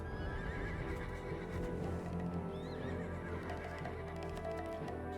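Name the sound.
horses neighing in the video game Black Desert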